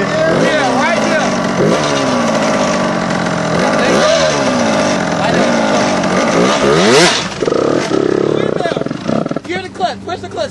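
A dirt bike engine revs loudly close by, rising and falling through repeated throttle blips before settling into a rough idle, while people talk over it.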